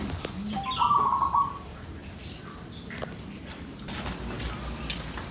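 A wild local zebra dove (perkutut) gives a short call, one clear tonal burst near the start over quiet outdoor background with faint rustles.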